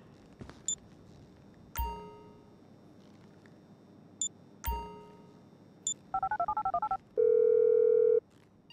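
A phone is dialed in the GTA V video game: a few sharp clicks and chimes, then a quick run of keypad tones and a steady tone held for about a second, close and clear with no talking.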